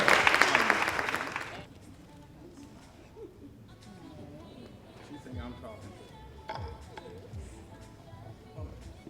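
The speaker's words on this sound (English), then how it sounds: "Give everybody a round of applause, because they really are doing the work." A community-service awards audience claps loudly for honorees for about a second and a half before the applause cuts off, leaving quiet room noise, light clinks and nearby voices talking.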